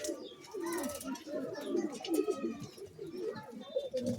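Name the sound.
pigeon cooing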